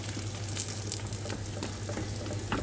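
Aloo paratha frying in desi ghee on a tava gives a steady soft sizzle with faint crackles, close and fairly quiet, without talk.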